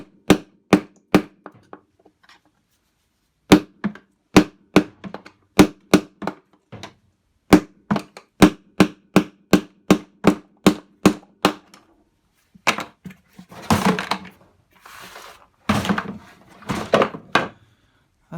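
A hammer taps out a failed bearing from an Indesit Innex washing machine in bursts of sharp, evenly spaced metallic strikes with a short pause between runs. Rougher, scattered knocks follow toward the end.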